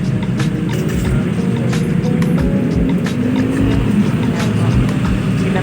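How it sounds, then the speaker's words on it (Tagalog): Road traffic passes close by on a busy street where people are walking. Vehicles make a loud, continuous low rumble and engine roar that swells and fades as they go past. "Traffic."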